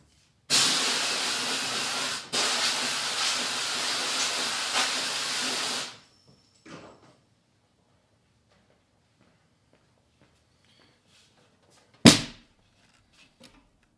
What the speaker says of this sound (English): I'm going to give it a quick spray with air just to get everything out